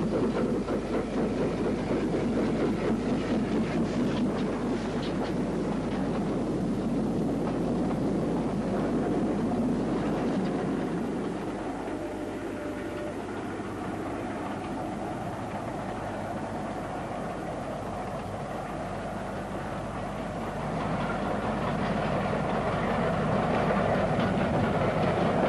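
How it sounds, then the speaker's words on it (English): A 1962 British Railways double-headed steam train, a pilot engine coupled ahead of the train engine, runs along the line with a steady rumble and faint rhythmic clatter of wheels, heard from the lineside with wind noise, easing slightly mid-way before swelling again. "With John Adams at the line side, Pat riding on the pilot engine and Eric on the train engine, the show was on the road."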